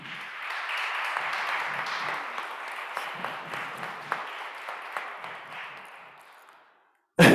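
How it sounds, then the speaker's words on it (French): A church congregation at a French-language Mass in Rockland applauds together, a sustained wash of clapping that slowly thins and fades out, heard from within the room. "On va applaudir pour Jean"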